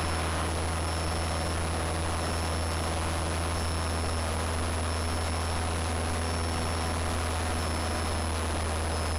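Steady broadband drone of a light airplane's engine in flight, with constant low hum and tonal whine throughout, no talk.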